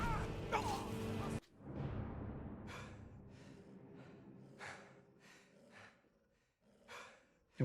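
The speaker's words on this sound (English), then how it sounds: "Why am I still breathing like I'm out of breath?" Skyrim player character breathing heavily, a series of drawn-out breaths and sighs with a few sharp gasps, close and fairly quiet against muted game ambience.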